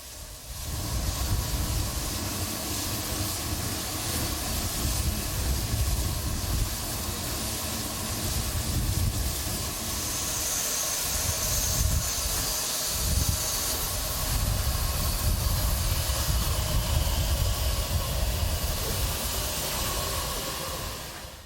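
A steam locomotive at a steam festival hisses with a loud, continuous broadband rush of escaping steam that holds steady for a long stretch, close and dominant, with faint mechanical rumble underneath.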